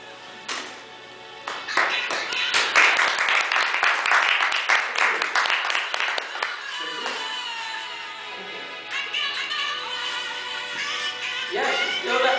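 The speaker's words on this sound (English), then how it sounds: "Let's give it an applause for Lady Tomika." An audience at a speech contest bursts into applause for a contestant, loud dense clapping that swells then gradually thins out, with a few scattered claps and voices at the end.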